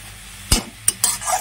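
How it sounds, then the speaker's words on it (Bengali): Leafy data shak greens stir-fried in a pan with garlic and turmeric, a spatula scraping and tossing in a few quick strokes over a soft sizzle, close and alone. "এভাবে নাড়াচাড়া দিয়ে শাকটাকে ভেজে নিচ্ছি বন্ধুরা"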